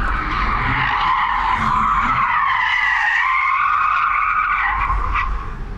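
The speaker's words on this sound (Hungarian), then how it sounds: "Igen, forgattatja a kereket alatta." Sustained tire squeal as a car's wheels spin and skid on pavement, from a Porsche Taycan Turbo S or Tesla Model 3 Performance; a loud, wavering screech lasting several seconds before tapering off.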